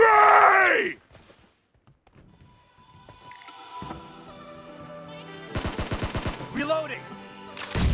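SCAR-L assault rifle fire in PUBG Mobile team deathmatch: a loud opening burst, then rapid automatic volleys in the second half and again at the end, over a bed of in-game effects and a brief voice-like groan.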